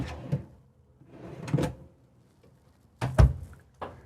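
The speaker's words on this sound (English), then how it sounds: "Again, soft closing drawers." Soft-closing bathroom drawers in a 2024 Renegade Valencia 36SB motorhome slide shut several times, each a muted swish ending in a gentle thump, heard close and quiet with no voices.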